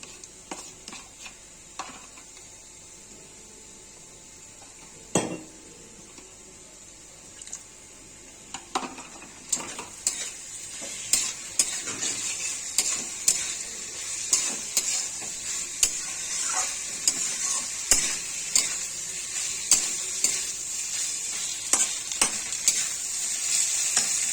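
Ginger, cumin, coriander and dried chilli pastes fry with softened onions and potatoes for a kachki fish chorchori, a soft sizzle that grows busier as a spoon scrapes and taps the pan in quick, irregular clicks.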